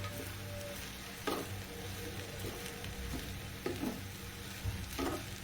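Pumpkin halwa cooking in ghee crackles and sizzles steadily in a pan while a spoon stirs it, with several scraping strokes against the pan, close and moderately quiet, no voices.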